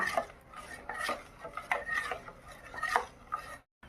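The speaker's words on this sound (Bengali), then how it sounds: "আবারও নেড়ে নিলাম এইভাবে নেড়ে চেড়ে মোটামুটি দশ মিনিট ধরে আমি এটা সেদ্ধ করে নেব" Gobindobhog rice simmering in milk for a ripe-mango payesh, stirred with a spoon in a pot, a quiet run of rhythmic scraping strokes that ends abruptly.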